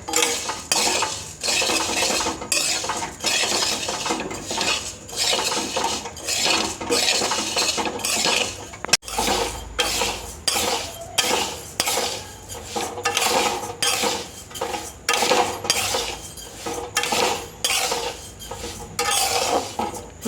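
Metal spatula scraping and clinking against a large wok as mung dal dry roasts, a steady run of close, loud stirring strokes with a brief pause midway and no talk.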